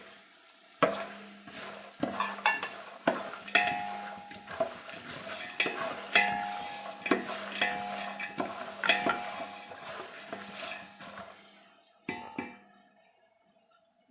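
Cumin and sesame seeds sizzling in hot tempering oil for a poha snack, a continuous crackling fry with frequent sharp pops and stirring scrapes, close up, easing off near the end.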